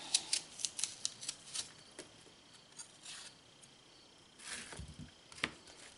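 A knife cuts the core from an apple, giving a run of small, crisp snips and scrapes, close and fairly quiet, with a few louder scraping strokes near the end.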